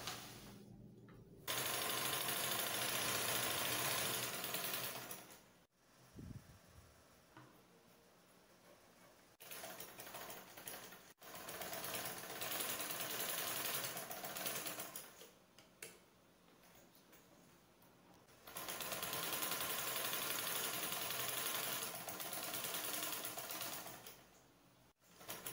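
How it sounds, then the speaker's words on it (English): A sewing machine joins two fabric pieces at the center of a bat-wing crop top, running in several bursts of steady whirring separated by quiet pauses. "the first place I'll be sewing will be this center by joining the two pieces together"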